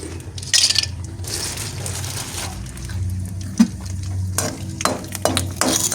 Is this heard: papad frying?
yes